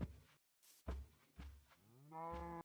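Minecraft cows, including baby cows, let out several drawn-out synthetic moos in quick succession. The moos are fairly faint, with short gaps between the calls and a longer, rising tonal moo near the end.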